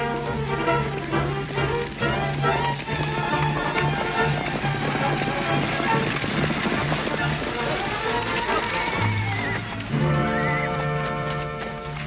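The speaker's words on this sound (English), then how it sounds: "Sounded like a lot more horses to me than just one team." Hooves of several galloping horses drum fast and loud while voices talk over them and music plays.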